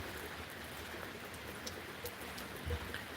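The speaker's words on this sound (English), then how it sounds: "I'm out here watching the rain." Steady rain falls on a dark stormy night, a continuous soft hiss of drops heard from a porch, even and moderate with no voices.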